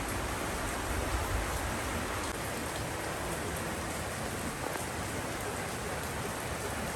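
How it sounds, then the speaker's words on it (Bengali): Heavy monsoon downpour on a rainy day in rural Bangladesh, a steady, dense roar of rain hammering surfaces, loud and unbroken throughout with no voices. "একদিকে দেখুন মুষলধারে বৃষ্টি হচ্ছে"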